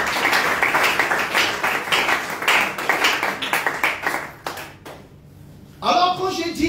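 A church congregation claps and cheers in praise, a dense burst of applause that carries loudly for several seconds, thins out into near quiet, then swells again briefly at the end.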